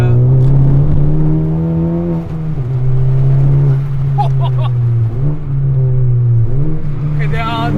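A 2021 Honda Civic Type R with performance mods pulls hard in third gear in R+ mode, its loud, droning engine note climbing steadily with brief dips at shifts, heard from inside with the windows down.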